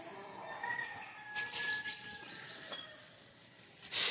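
A rooster crows nearby, a drawn-out call with some clucking and faint rustling around it, and no speech over it.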